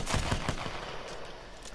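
P2020 semi-automatic pistol in Apex Legends firing four quick, close taps in under a second, then a short tail of fading echo.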